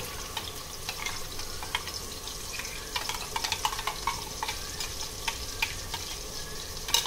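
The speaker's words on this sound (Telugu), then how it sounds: "ఇప్పుడు దీనిలో మనం ముందుగా గ్రైండ్ చేసి పెట్టుకున్న పేస్ట్ని వేసేస్తున్నాను" Ground masala paste frying in a pan for a chicken masala curry, a close, busy crackle and sizzle with scattered sharp pops and light stirring scrapes throughout.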